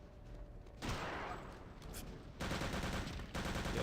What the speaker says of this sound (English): the gunshots really do just sound like somebody is kicking you when it hits